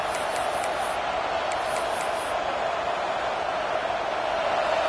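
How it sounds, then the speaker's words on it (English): Steady roar of a college football stadium crowd during the early going of a game, a dense continuous wash of massed voices with faint whistles at the start, loud and even throughout. "Listen to the crowd energy here in the early going"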